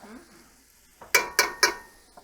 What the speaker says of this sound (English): as soon as you add your garlic, then you want to add your butter